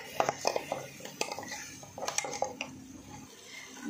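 Masala spices with browned onions being roasted in a pan, a utensil scraping and clinking against the metal in irregular strokes over a soft background sizzle, close and fairly quiet.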